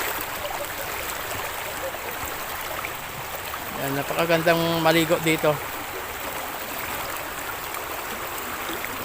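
A river at Daraitan with a strong current rushes in a steady, broad wash of flowing water, with someone speaking briefly over it partway through.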